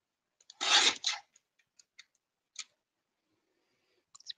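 A paper trimmer cuts a strip in a quiet room: one short, close rasping slide lasting about half a second, then a few faint scattered clicks and taps.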